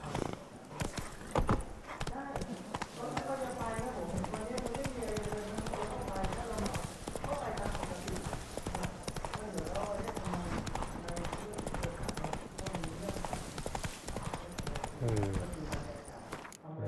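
Horse hooves clip-clop steadily in the video game The Witcher 3: Wild Hunt, Blood and Wine, a rhythmic trot running throughout beneath continuous character dialogue and game music.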